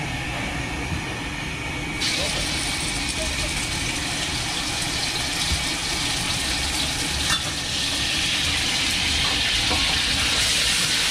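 Food sizzles and fries in a pan at a Japanese food stand in a weekend market in Campinas, a loud, continuous crackling hiss that swells brighter at moments, with background voices faintly beneath.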